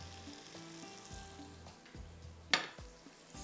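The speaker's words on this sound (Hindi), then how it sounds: "मैं अभी डालती हूँ कड़ी पत्ते भी इसमें, थोड़ा सा हरी मिर्चें और कड़ी पत्ते।" Green chilies and curry leaves sizzle in hot oil for a tarka, a lively close crackle broken by soft stirring taps and one sharp spatter of popping near the middle, with no talking.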